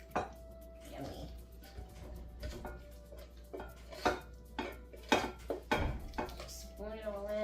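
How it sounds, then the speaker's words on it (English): Creamy baked ziti mixture is spooned into a baking dish, with quiet scrapes and clinks of a spoon against the dish in irregular bursts, close and soft, with faint kitchen background. "I'm just gonna spoon all of that in"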